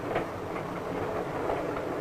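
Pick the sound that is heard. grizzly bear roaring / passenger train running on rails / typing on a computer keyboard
passenger train running on rails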